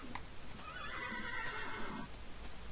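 Horse neighing in Minecraft (Tekkit modpack), a drawn-out whinny of about two seconds with a wavering pitch, clear and fairly close, with no talking over it.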